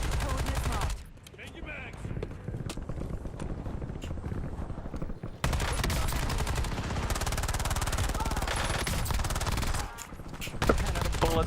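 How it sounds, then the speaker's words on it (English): Warzone battle gunfire: dense, continuous rattling shots and bursts fill nearly the whole stretch, loud and close, with a brief lull near the start and another near the end, while voices talk over the action. "Shoot, where are we getting shot from?"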